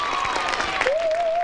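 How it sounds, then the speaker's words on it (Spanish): Audience applause at a live comedy show, a short burst of dense clapping from the crowd, with a whistle-like tone running through it. "Un aplauso."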